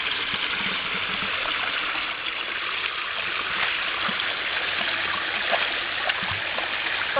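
Water runs in a continuous, even gush, steady and fairly close, with no voices over it.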